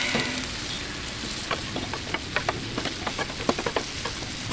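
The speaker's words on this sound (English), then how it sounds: "Get nice and seared on that side." Steak and buns searing on a Blackstone flat-top griddle, a soft steady sizzle with scattered crackling pops and spits, moderately quiet and close, with no voices.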